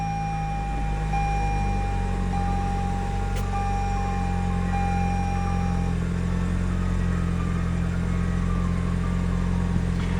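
A 2019 Toyota Camry XSE with the 2.5-liter four-cylinder settles into a steady, fairly quiet idle after a push-button start, the low engine hum continuous and close with a faint tone above it.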